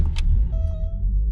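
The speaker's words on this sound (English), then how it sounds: "And it starts right up" A 1987 Audi Coupe GT engine cranks and catches, settling into a loud, close, steady low idle rumble with a brief higher whir at the start and no talking.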